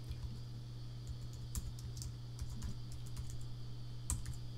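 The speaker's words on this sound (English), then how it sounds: "pardon my typing" Steady typing on a computer keyboard, a quick run of light clicks and clacks at close range with faint background hum, no talking.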